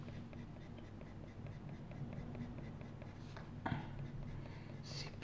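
A pencil colours on paper in soft, steady scratching strokes, close and quiet, with a faint tap partway through.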